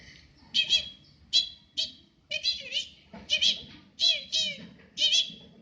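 A person imitates a sparrow, voicing a series of short, high chirping bursts in clusters of two or three, close and clear.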